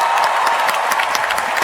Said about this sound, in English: We join them in applauding Dame Judi Dench.